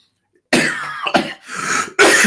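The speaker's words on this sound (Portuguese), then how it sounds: "hoje vai ser péssima essa história da tosse" Several harsh, throaty coughs come in quick bursts close to the microphone, separated by brief pauses.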